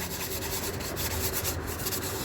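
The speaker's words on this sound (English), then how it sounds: "I'm just gonna hit with this 1000 grit," A car engine head surface from a 2013 GMC Terrain rebuild is rubbed with 1000 grit sandpaper, a continuous rough scraping hiss with rhythmic strokes, close and steady.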